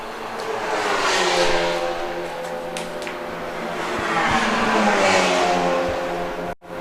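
An Audi TCR race car at Mugello circuit roars past twice with rising and falling engine pitch, a sharp gear-change burst between passes, loud and close, without talk.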